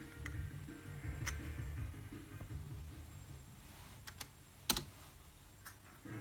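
Typing on a computer keyboard, faint, irregular key clicks close by with a couple of sharper taps, no talking.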